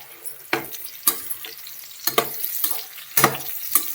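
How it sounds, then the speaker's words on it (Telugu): Bitter gourd (kakarakaya) slices fry on medium heat, a soft sizzle punctuated by several sharp scraping stirs of the spatula against the pan. "మనము మీడియంలో పెట్టుకొని వేయించుకుంటూ ఉండాలి. ఇలా తిప్పుకుంటా ఎలా ఎగిందో చూద్దాం"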